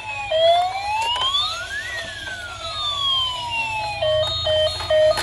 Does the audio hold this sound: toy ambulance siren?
yes